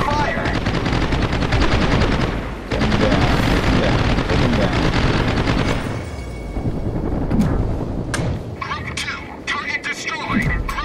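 Naval gunfire from a World of Warships battle booms almost nonstop, heavy blasts and rattling volleys layered over dense rumbling, loud throughout with brief sharp cracks near the end.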